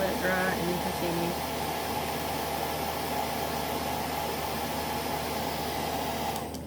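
A hair dryer blows steadily on wet acrylic paint for a rose painting, a constant close whooshing roar that runs unbroken for several seconds, with a brief voice at the start.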